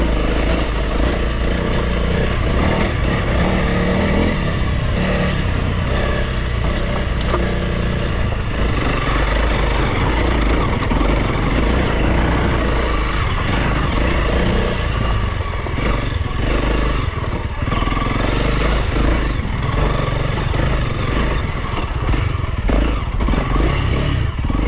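A 2022 Honda CRF300L single-cylinder trail bike runs steadily on a single-track trail, its engine droning loud and close for the whole stretch, with clatter and scraping from the terrain mixed in.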